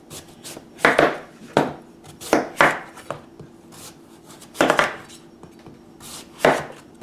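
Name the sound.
knife slicing pumpkin into slices on a board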